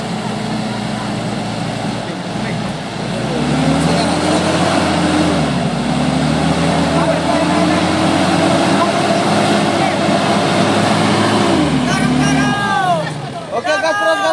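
A Mitsubishi Strada Triton 4x4 truck gives a loud, continuous engine drone that rises in pitch as it pulls, then eases off near the end, with voices talking over it.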